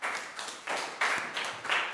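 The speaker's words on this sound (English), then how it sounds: "Teacher says, clap your hands." Children clap their hands together in a classroom exercise, giving four or five separate bursts of claps at an uneven pace that sound close and moderately loud.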